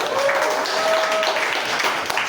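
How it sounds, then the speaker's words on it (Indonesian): Brief burst of applause from an audience at a hospital event, a steady wash of clapping running for a couple of seconds with no talking over it. "Ya, tepuk tangan."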